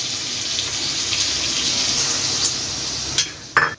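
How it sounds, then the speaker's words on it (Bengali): Water runs steadily into the emptied yogurt bowl to rinse it out, a continuous splashing wash from a faucet, ending with a few brief clinks and knocks as the bowl is handled. "দইয়ের বাটিটা ধুয়ে জলটা দিয়ে দেব"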